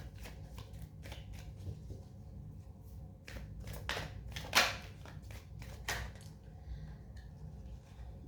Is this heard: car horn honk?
no